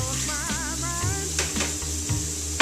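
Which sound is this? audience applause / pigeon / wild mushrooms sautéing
wild mushrooms sautéing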